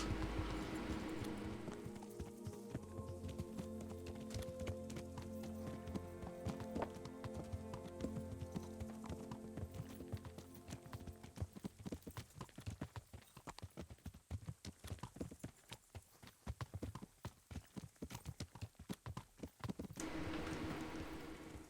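Hooves of a horse ridden in Kingdom Come: Deliverance clip-clop in a steady rhythmic beat, near and clear, over a quiet background of game ambience and faint music, the footfalls becoming denser and sharper toward the end.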